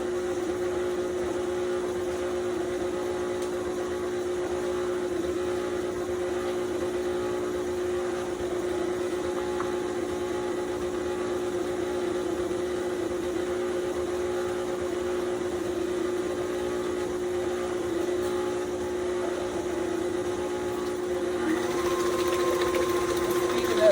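An electric mixer beats buttermilk chocolate pound cake batter with a loud, even motor whine that holds for the whole stretch and swells slightly near the end.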